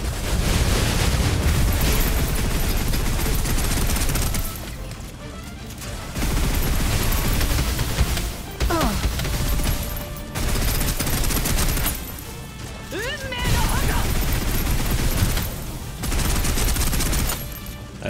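Dense, loud suppressive gunfire in the PC game Snowbreak, heavy volleys rolling almost continuously with a few brief lulls and booming impacts layered in.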